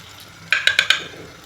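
Four quick, bright metallic clinks in a row, like a spoon against a pressure cooker, over a faint sizzle of hot ghee in a quiet kitchen.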